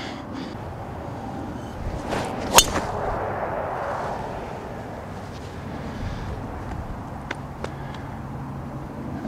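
A golf club drives a ball off the tee on a downwind par-5 seventeenth hole, giving one sharp, loud crack partway through, set against steady outdoor wind rumble with no talking.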